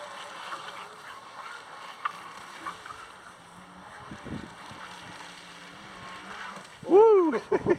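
Two Thrasher RC jet boats on 5S and 6S LiPo power race across water, a thin high motor whine under wind noise, with a brief louder rising pass near the end.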